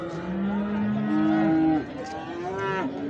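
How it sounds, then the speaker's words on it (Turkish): A cow at the Göksun livestock market in Kahramanmaraş gives a long, loud moo up close, its voice bending downward, followed by a second shorter low call, with market bustle faint behind. "İnek bu arkadaşlar."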